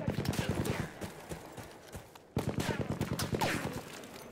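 Rapid gunfire bursts in the Battlefield 1 video game, with a fast rattling volley, a brief pause, then another dense string of shots, loud and close, with a player talking in between.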